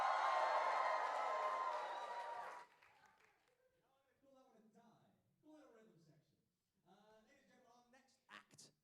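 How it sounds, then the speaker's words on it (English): Crowd at an a cappella competition cheers and applauds loudly for a beatboxer, a dense roar lasting a few seconds before cutting off, followed by a voice talking over a quiet room. "And now give me a cheer for beatbox,"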